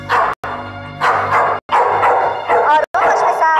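A dog barks and yips in short repeated bursts, close and loud, in an Iranian film scene, with brief pauses between the barks.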